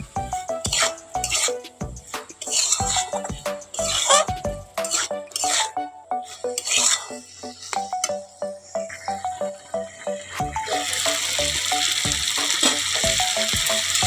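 Boiled chickpeas and potatoes are fried with spices in a pan, with repeated ringing clanks of a spatula against the metal in an irregular rhythm, then a denser continuous sizzle in the final few seconds.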